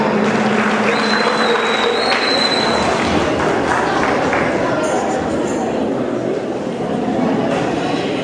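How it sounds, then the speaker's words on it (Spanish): Audience applause at a school declamation contest, a dense steady clatter of clapping that stays loud and continuous throughout, with a thin high tone briefly above it. "Fuerte los aplausos para Yerizo Arelín Caicedo Limo"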